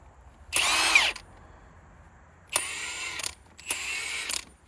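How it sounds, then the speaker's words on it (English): An impact gun rattles against a mower blade bolt in three loud bursts. The first burst is about half a second long, followed by a pause and then two longer hammering runs close together. "see if this impact gun's got a lot of pressure on it"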